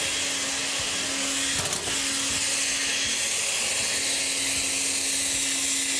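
A blender whirs through a marinade of garlic, dried oregano, vinegar and white wine for fish, producing a steady, loud, even motor whine that runs the whole time with a faint hum underneath.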